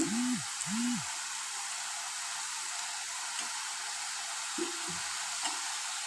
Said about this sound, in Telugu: ఉల్లిపాయ టమాటా ఆయిల్ పైకి వచ్చే వరకు మగ్గించుకోవాలి